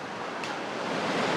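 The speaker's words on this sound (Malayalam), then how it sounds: "നല്ല വെള്ളം ഉണ്ടല്ലേ നല്ല ഒഴുക്കുണ്ട്" Strong, continuous rush of the Kalindi river flowing, loud and steady throughout with no pauses.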